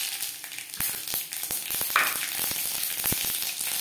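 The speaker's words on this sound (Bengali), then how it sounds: "সর্ষে ফুটতে শুরু করে দিয়েছে" Mustard seeds and broken dried red chillies spluttering in hot oil, with a steady close sizzle broken by sharp irregular pops and crackles throughout, and no voices.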